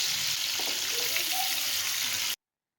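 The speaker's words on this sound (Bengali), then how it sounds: "এইভাবে ফিশগুলি ফ্রাই করার জন্য এখন আমি বোথ সাইড ফ্রাই হওয়ার জন্য আমি এক এক পিস করে উল্টিয়ে দিচ্ছি" Hilsa fish pieces fry in hot oil and are flipped one at a time, giving a close, even sizzle with a few soft clinks before the sound cuts off abruptly.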